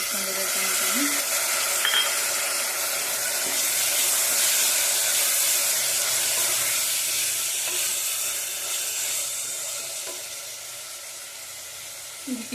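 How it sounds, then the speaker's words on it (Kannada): Tomatoes frying in a pan for spinach rice, a loud continuous sizzle and hiss with occasional stirring scrapes, close up and without talk. "ಸ್ವಲ್ಪ ಫ್ರೈ ಆದ ನಂತರ ಟೊಮೊಟೊ ಹಾಕ್ಕೊಳ್ಳೋಣ ಎಲ್ಲ ಟೊಮೆಟೊ ಹಾಕ್ಕೊತಾ ಇದ್ದೀನಿ"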